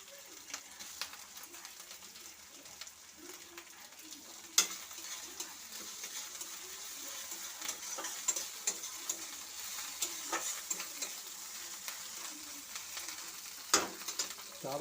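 Tomatoes frying in a pan give off a steady, fairly quiet sizzle that runs throughout, dotted with small sharp pops and clicks and a couple of louder spatters.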